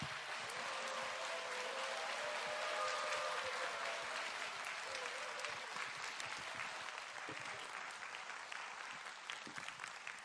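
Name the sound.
audience applause welcoming the pastor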